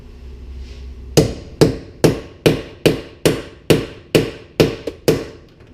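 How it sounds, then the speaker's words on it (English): A 1/2 inch socket is hammered onto a rusted bolt during Early Bronco floor repair: repeated sharp metallic hammer blows strike at a steady pace, about a dozen hits ringing out close and loud with no talking. "we're going to try and hammer a 1/2 inch socket onto it"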